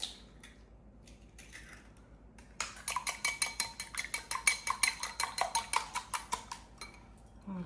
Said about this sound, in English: Now I'm going to beat the 2 eggs.